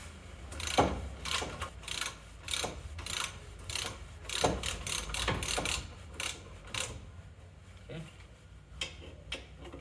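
A ratchet clicks in quick repeated bursts while tightening front suspension bolts, 18 mm at the bottom, on a BMW E30 Touring with a Z3M 5-lug swap, close and fairly loud, with brief pauses between strokes.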